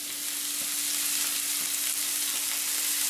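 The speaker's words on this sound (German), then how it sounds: "Das Ganze braten wir kurz an." Steady hiss and sizzle of leek and corn frying in an oil-filled pan, continuous and close, with a faint hum underneath.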